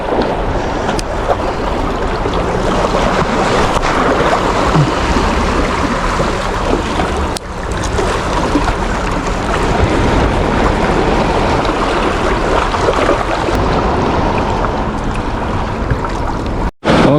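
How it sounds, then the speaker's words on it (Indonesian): Boats repeatedly passing near a beach at Sanur, Bali, heard as a continuous broadband wash of engine drone, wind and surf with no clear breaks, loud and close, briefly dipping once midway. "aktivitas kapalnya tuh aktif teman-teman. Maksudnya mondar-mandirnya rapet ya."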